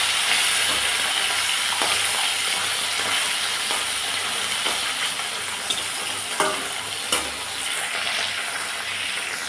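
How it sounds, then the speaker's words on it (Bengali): Fish frying in mustard oil in a wok, a steady broad hiss and sizzle running throughout with a few brief clicks and spatters, close and continuous with no talking. "মাছগুলোকে আমি উল্টে পাল্টে ভেজে নেব"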